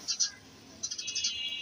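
Small birds calling faintly in short high chirps, a pair near the start, then a longer twittering series, with quiet in between.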